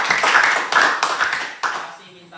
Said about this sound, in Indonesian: Tepuk tangan dulu buat Jenny.